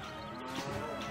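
Cows in the video game Stronghold give a faint, low, drawn-out moo against a quiet game background.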